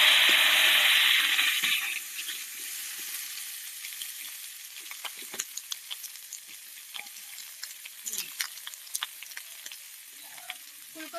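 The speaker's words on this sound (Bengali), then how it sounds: "তো সবার প্রথমে আমি তেলের মধ্যে দিয়ে দেবো ফুলকপিগুলো।" Cauliflower florets dropped into hot oil for a pea and potato curry, a loud burst of frying at first that settles into a softer steady sizzle, with small pops and clinks of stirring scattered throughout.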